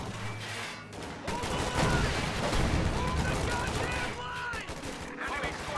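Dense battle gunfire and explosions in the strategy game Company of Heroes 2, including an MG34 machine gun, a continuous mid-level fusillade of overlapping shots with a voice talking over it.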